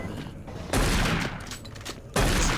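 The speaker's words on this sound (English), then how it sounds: "This is why the machine gun sucks." Machine gun fire in Doom 3 BFG Edition, two loud bursts of rapid automatic shots separated by a quieter stretch, close and harsh.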